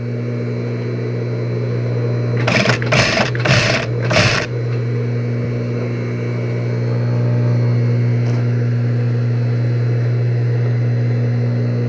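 A sewing machine overstitching the cuff of a women's blouse runs in four quick, loud bursts over a steady motor hum, close by, with no talking.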